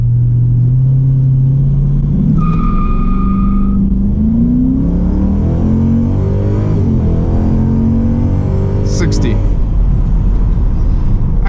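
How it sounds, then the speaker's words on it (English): A 2007 Ford Mustang GT launches from a standstill to 60 mph with the torque converter loaded. The loud, close engine note climbs steadily through several gear shifts under muffled cabin noise. "Let's do one more 0 to 60. I'm gonna load up the torque converter a little bit."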